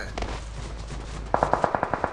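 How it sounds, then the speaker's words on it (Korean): Automatic rifle fire in the mobile battle-royale game PUBG Mobile, a rapid burst of about ten sharp, evenly spaced shots in the second half, loud and close over a low background hum. "총소리"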